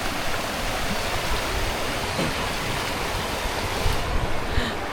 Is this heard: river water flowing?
yes